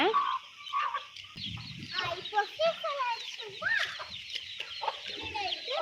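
Chickens cluck and squawk nearby in irregular bursts, some sharp and high, others low and muttering, continuing throughout.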